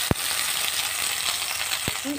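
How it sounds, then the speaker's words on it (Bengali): Ash gourd slices fry in a pan, giving a steady close hiss of sizzling oil with a couple of sharp utensil taps. "আর এইরকমভাবে লাল লাল করে প্রত্যেকটা আমরা খুব সুন্দর করে ভেজে নামিয়ে দেবো।"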